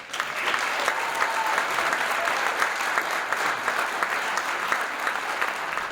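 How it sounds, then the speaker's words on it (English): Audience at a high school National Honor Society induction ceremony clapping for the inducted students, a sustained even round of applause from a moderately sized crowd in a hall, steady throughout. "Please join us with the congratulatory applause for all these exemplary students."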